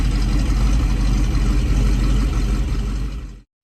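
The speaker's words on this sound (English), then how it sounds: "Number 6, 2014 Chevrolet SS." A 2014 Chevrolet SS with a 415-horsepower small block V8, its steady deep idle rumbling loud and close before cutting off abruptly.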